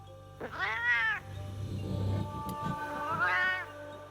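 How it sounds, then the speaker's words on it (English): Two high-pitched meows from a male cat, close and distinct, separated by a stretch of low murmur and room hum. "He has a very high-pitched meow for a boy."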